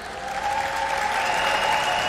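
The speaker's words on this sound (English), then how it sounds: "please give a round of applause for the president of the Miss Universe organization, Paula Sugar." A large crowd at the Miss Universe preliminary competition, a live pageant show, gives steady, dense applause that builds slightly and holds, filling the hall without any talking over it.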